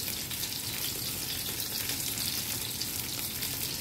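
Salted, seasoned egg frying in a pan for scrambled eggs gives off a loud, even, unbroken sizzle close by, with no voices over it.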